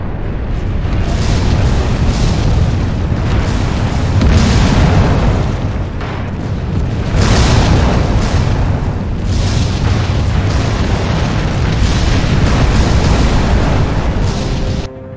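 Heavy artillery fire and explosions in the World War II strategy game Order of War, a continuous barrage of loud, deep booms rolling one into another for the whole stretch.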